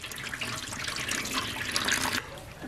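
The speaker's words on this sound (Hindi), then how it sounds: "सर को टब में रखने के बाद टब में डाल लेंगे पानी" Water pours steadily from a tap into a large tub used for soaking a buffalo head, a continuous splashing, hissing stream that stops abruptly near the end, close and moderately loud with no talking.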